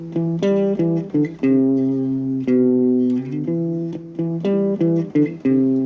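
A distorted electric guitar plays a repeating single-note riff, with punchy sustained notes and short gaps between phrases.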